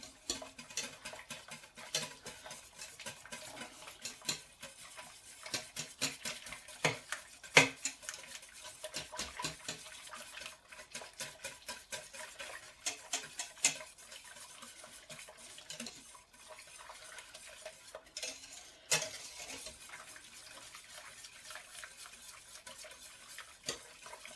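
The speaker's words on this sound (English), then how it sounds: "make sure that's mixed in really well till it's dissolved." Parmesan being stirred into an ice cream custard mix, a soft continuous swishing with light taps and clinks of a utensil against the pot, close and quiet.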